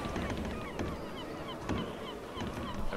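Assorted bird calls, honking goose-like cries and chirps, fill a fantasy tabletop game ambience track, layered and steady at moderate level throughout with no speech.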